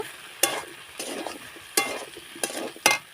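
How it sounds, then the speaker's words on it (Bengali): Pumpkin, malabar spinach stems, eggplant and potato being stirred in an oily pan for a tel chorchori, with four or five sharp scraping strokes over a soft sizzle, close and moderately quiet. "কুমড়ো, পুঁই শাকের ডাঁটা, বেগুন আর আলু, ওইগুলোকে সব দিয়ে দেবো আমি। দিয়ে একটু নাড়াচাড়া করব।"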